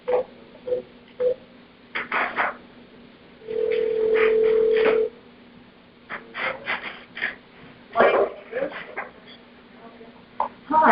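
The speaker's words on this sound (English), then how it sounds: "And then dial the number that he gave us." A telephone speakerphone in a hearing room plays a steady dial tone, then short tones sound as a number is dialed, with people speaking quietly around it.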